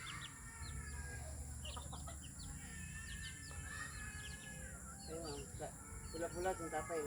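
Chickens and chicks cluck softly in a rural yard, with scattered bird calls over a steady low background hum and faint voices in the distance.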